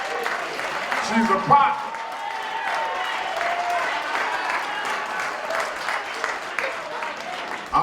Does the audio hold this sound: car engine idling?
no